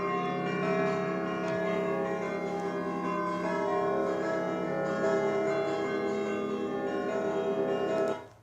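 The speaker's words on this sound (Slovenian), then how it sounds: "Igramo pač neke ritmične vzorce, recimo na zvonove, tukaj bo Mojca lahko kaj več povedala" Slovenian pritrkavanje: church bells struck by hand in rhythmic patterns, a steady dense ringing with layered overlapping tones, loud and continuous throughout before stopping abruptly at the end.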